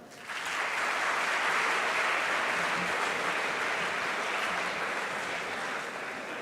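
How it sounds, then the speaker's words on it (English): Steady audience applause at a school declamation contest, a broad, even wash of many hands clapping that holds at moderate volume throughout with no talk over it. "just one round of applause for yourself"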